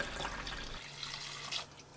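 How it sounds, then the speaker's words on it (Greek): Lukewarm water and vinegar poured into a well of flour to make olive bread and cheese bread dough, a steady close splashing pour that runs for about a second and a half and then tails off. "Θα ρίξω μέσα 20 γραμμάρια ξύδι και 680 γραμμάρια ή ml νερό χλιαρό"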